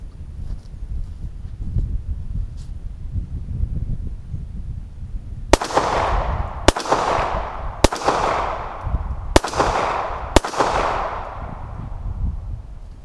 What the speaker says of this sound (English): World War I doctrine says I have to shoot this one-handed.